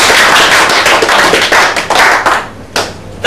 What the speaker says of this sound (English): Giving you a round of applause.